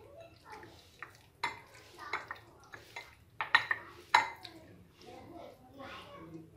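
Chicken being mixed by hand with ginger garlic paste in a bowl, soft wet squelches and light clinks of dishes and utensils in irregular bursts, fairly close, with speech present.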